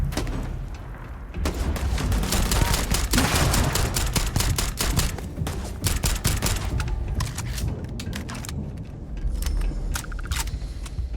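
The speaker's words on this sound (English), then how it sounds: "Who is firing rockets?" Rockets and heavy weapons fire in the space game Starfield as a loud, sustained barrage of blasts and rapid shots that dominates throughout, with dense bursts and sharp impacts and no talking over it.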